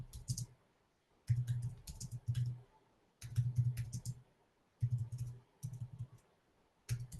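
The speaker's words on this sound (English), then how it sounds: "I'm hearing some typing." Typing on a computer keyboard comes in short bursts of clicking keystrokes separated by brief pauses, faint and close, with no voices.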